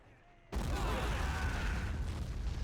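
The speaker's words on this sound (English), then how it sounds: "have all the artillery guns firing at it" Artillery guns firing together in the Men of War BITFA mod, a Civil War battle with Union forces attacking a Confederate camp: an abrupt loud onset of booming fire that becomes a dense, sustained rumble of overlapping blasts.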